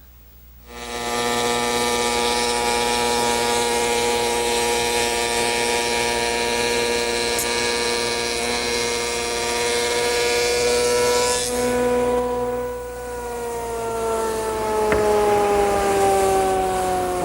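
A woodworking shaper, slowed for a large cutter, spins up and cuts tapered wooden panels with a loud, sustained tonal whine that holds steady, then drops in pitch as the piece passes through, with no voices.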